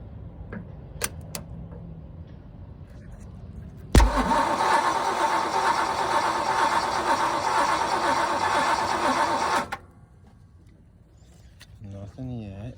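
An abandoned Jeep that sat outside for 40 years cranks without catching: a sudden loud starter whir runs steadily for about six seconds then cuts off, with brief voices and clicks before and after.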